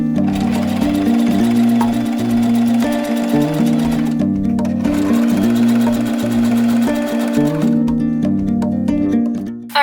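A sewing machine runs loudly and continuously, its needle hammering in a fast, steady mechanical rhythm with brief changes in pace.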